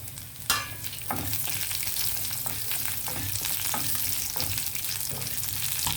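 Garlic and chana dal fry in hot oil for a dried-shrimp amaranth greens dish, giving a steady close sizzle with scraping stirs and a sharp crackle burst near the start.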